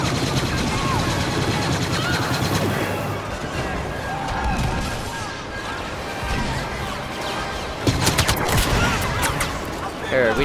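Dense gunfire and battle noise in a Star Wars Battlefront fight around an AT-AT walker, with continuous rapid shots, crashes and a sharp burst near the end, loud throughout with voices talking over it.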